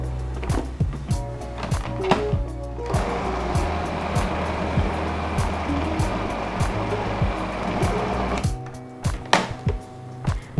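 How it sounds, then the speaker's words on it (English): A blender whirs loudly as it blends chickpeas and banana into cookie dough, a continuous dense roar that runs for several seconds between bursts of clattering knocks at the start and end. "So blend thoroughly."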